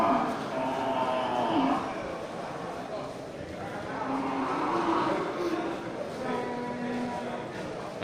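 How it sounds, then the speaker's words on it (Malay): Large male Aceh water buffalo low at a busy livestock market, with a couple of drawn-out bellows rising over steady crowd murmur and someone talking nearby. "terlihat ini beberapa kerbau jantan super ya"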